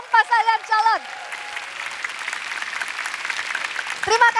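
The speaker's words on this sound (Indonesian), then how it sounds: "Mana tepuk tangannya para pendukung pasangan calon?" Studio audience of presidential candidates' supporters applauding at a televised debate-strategy show in Indonesia, a steady broad clatter of clapping after a brief spoken intro, with a voice returning at the end.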